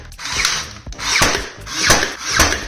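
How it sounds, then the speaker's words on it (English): Pneumatic nail gun firing into cut wood molding during a DIY coffered ceiling build, several sharp close bangs spaced roughly half a second apart, each with a short hissing tail. "Once we put it in place, we use the nail gun to secure it."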